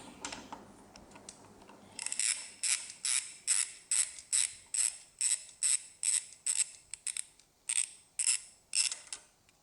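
A hand ratchet loosens a horn bracket bolt in a run of about fourteen evenly spaced, clicking strokes. It is close and moderately loud, with no speech.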